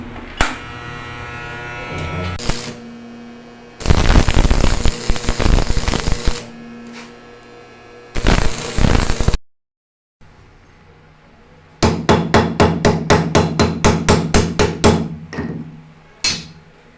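A portable 300-ampere welding machine striking an arc with small welding rods gives off bursts of loud, harsh crackling hiss, then a rapid run of sharp sputtering pops, with short quiet gaps between the bursts.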